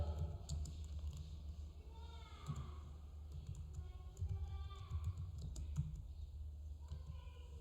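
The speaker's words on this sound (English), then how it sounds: "Now we are supposed to type Carnes State University." Keys clatter on a computer keyboard in quick, irregular bursts of soft taps as text is entered into a Word document, fairly quiet and close, with a faint low hum behind.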